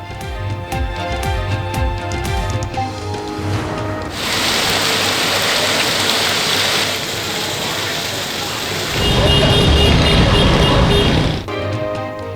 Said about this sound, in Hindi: कई दिन इंतजार के बाद कराची में सुरमई बादल तेज हवाओं के साथ बरस पड़े